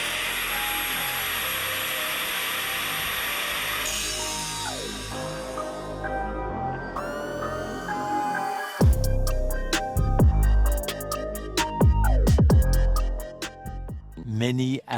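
Rusty Evo 9 car parts being ground with a power tool, a continuous high whine at first, then harsh, irregular grinding bursts that rise and fall loudly as the tool bites into the metal.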